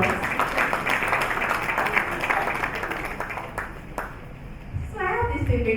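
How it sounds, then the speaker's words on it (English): Audience applause at a formal gathering in honour of a special assistant to the Speaker of the House of Representatives: dense, sustained clapping from a crowd that fades out near the end, giving way to a voice. "let's give him a round of applause."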